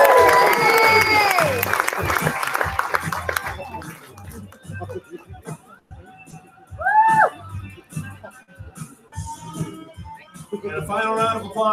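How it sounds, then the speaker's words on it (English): Crowd applause and cheering for the innovators at the LAX18 graduation, loud at first with voices and whoops mixed in, then thinning to scattered claps and murmuring before swelling again near the end. "a final round of applause for all the LAX18 Innovators"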